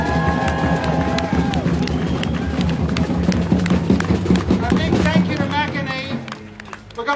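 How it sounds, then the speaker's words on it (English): Rally crowd outdoors applauding and cheering, a dense continuous patter of clapping with shouts mixed in and a voice amplified over the top. "Big round of applause for Jared for being here for Palestine."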